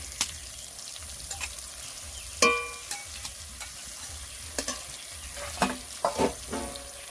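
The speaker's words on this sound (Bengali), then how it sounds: "এখন দিয়ে দেব জিরে বাটা আদা বাটা পেঁয়াজ বাটা শুকনো লঙ্কা বাটা" Ground cumin, ginger, onion and dried chilli pastes frying in a pan with onion and tomato for a rohu fish curry, giving a steady close sizzle with occasional spatters and stirring scrapes.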